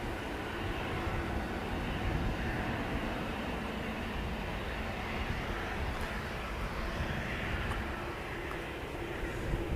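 An SAS airliner departing from Manchester Airport, a sustained low roar of jet engines heard from a distance, steady and broadband with no speech.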